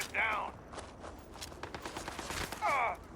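Gunfire in the video game Starfield: scattered, fairly faint shots and rapid bursts under a voice making brief sighing or groaning sounds.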